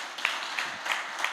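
A church congregation claps briefly in a large worship hall, a soft, diffuse patter of many hands with a few sharper claps standing out, lasting only a moment.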